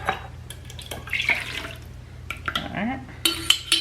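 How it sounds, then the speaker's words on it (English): Thin homemade spaghetti sauce is poured from a container into a bowl, giving soft glugs, drips and clinks of glass and dishware, close and fairly quiet. "So I'm just gonna pour this in a bowl."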